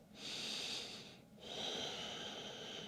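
A person in child's pose on a yoga mat takes slow full-body breaths, with two long airy exhalations separated by a brief pause, close and soft with no talking.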